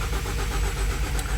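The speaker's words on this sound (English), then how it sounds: "if we take and push the button, it's just going to spin over and not run" Starter cranking a 2016 Ford Fusion engine that turns over steadily without catching after an engine replacement, a continuous low churning drone close by for the whole stretch, no voices.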